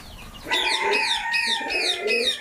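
Diamond dove cooing in a pet aviary in summer heat, a close, clear series of about five rhythmic rolling coos following one another evenly with no talk.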